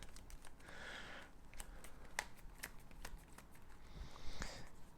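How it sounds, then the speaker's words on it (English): Cards from a Mythos deck in a Cthulhu: Death May Die board game being shuffled, giving soft papery riffles and taps in short bursts, close and quiet, with no talking. "We can shuffle these Mythos cards back into the deck."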